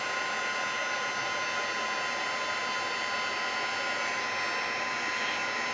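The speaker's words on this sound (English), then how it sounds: "right now we're just going to heat up this clear heat embossing powder" A heat tool melts clear embossing powder on a Christmas card, giving a constant, even fan whir with a hiss, like a hair dryer running near and alone.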